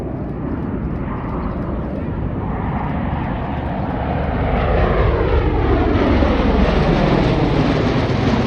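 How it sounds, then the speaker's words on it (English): An MV-22 Osprey tiltrotor in airplane mode drones overhead at an air show, a broad steady roar that grows louder and shifts in pitch as it passes, with no distinct chopping rhythm. "Notice how quiet the Osprey sounds when it's in airplane mode compared to when it's a helicopter."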